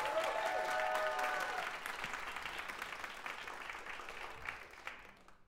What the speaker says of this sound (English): Big round of applause for some of our new Kohai here.